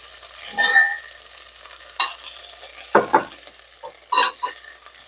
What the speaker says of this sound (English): Add in the beef. Saute till it's browned.